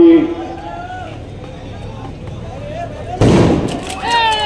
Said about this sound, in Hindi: भाई पटाखा मत फोड़ो